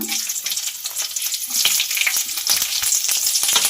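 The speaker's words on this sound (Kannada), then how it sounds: "ಇವಾಗ ಎಣ್ಣೆ ಕಾದಿದೆ ಸಾಸಿವೆ ಹಾಕ್ಕೊಳ್ಳೋಣ ಮತ್ತು ಹಸಿಮೆಣ್ಸಿನ್ಕಾಯಿ ಹಾಕ್ಕೊಳ್ಳೋಣ" Mustard seeds and green chillies sizzle and crackle in hot oil, a steady close frying hiss with scattered pops that grows louder partway through.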